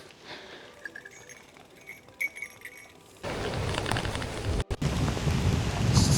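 A sudden rain shower begins abruptly on a road in Maharashtra's Konkan region, a faint patter swelling at once into a loud, steady hiss of rain hitting surfaces close around.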